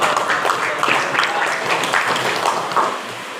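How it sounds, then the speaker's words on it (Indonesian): An audience at a campus orientation event for new university students claps in a dense, steady burst of applause that fades slightly toward the end. "Boleh tepuk tangan sekali lagi untuk Bapak Bersaid"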